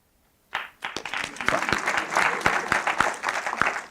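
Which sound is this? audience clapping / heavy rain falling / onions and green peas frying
audience clapping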